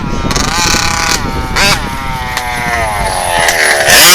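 HPI Baja RCMAX 90GT RC car engine screaming at full power, a loud, buzzing two-stroke whine that rises and dips in pitch with brief throttle blips, close to the microphone.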